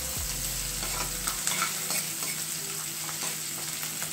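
Ginger, garlic and green chilli fry in hot oil with bay leaf and cumin for an egg masala curry, a steady close sizzle broken by the scrape of a spoon stirring the pan, with no talk.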